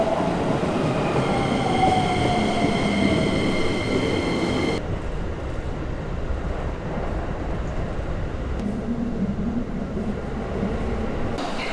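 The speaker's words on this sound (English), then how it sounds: "at the train station now, and I just missed the train" Train at Yokohama station, loud rumbling rail noise with squealing wheels and a falling tone as it moves off, then a steady rolling roar of carriages, with no talk.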